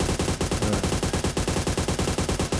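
An AUG rifle fires full auto in the mobile game PUBG Mobile, a loud, rapid, evenly spaced burst of gunshots running for nearly three seconds without pause.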